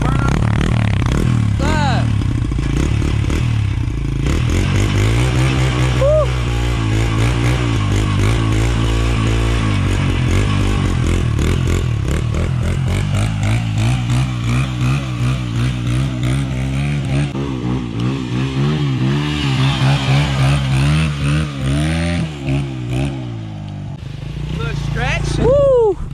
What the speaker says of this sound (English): Y'all want a quick burnout?